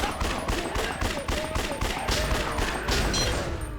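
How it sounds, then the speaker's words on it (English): Rapid, evenly spaced pistol shots in the video game Yakuza Dead Souls, a steady rhythm of about three to four cracks per second, loud and close, running continuously over the game's background sound. "we're going to start weakening them with a grenade launcher and then shooting them with the pistols"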